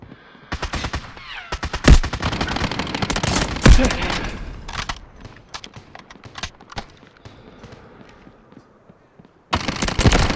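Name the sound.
gunfire in the video game Delta Force Mobile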